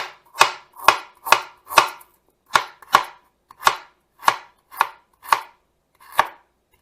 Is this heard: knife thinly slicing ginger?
yes